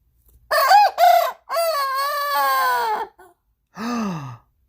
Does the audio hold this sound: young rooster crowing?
yes